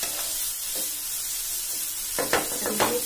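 Paneer bhurji stir-frying in a pan, a steady hiss of sizzling with a few scraping stirs near the end, close and moderately loud.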